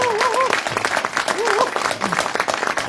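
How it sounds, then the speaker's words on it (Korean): Audience applause at a Korean education talk event, steady clapping under a voice speaking over it. "박수 감사드립니다."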